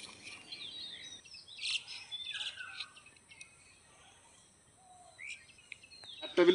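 Assorted birds chirp and whistle in short scattered calls around a taro field, fairly close, with quiet gaps and a louder burst at the end.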